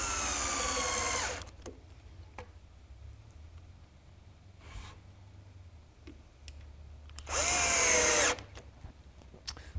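A power drill drives screws into a pine face frame on a workbench: two loud whirring bursts at the start and near the end, with quiet clicks and handling noise between them, close up.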